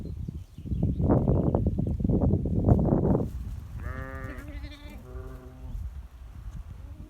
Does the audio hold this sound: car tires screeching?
no